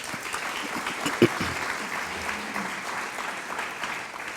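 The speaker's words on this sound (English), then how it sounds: "giving my board just another round of applause" Audience applause for the board at an arts and humanities month celebration in Linden, Union County: a fairly faint, steady patter of clapping from a distant crowd, with one sharp louder clap near the start.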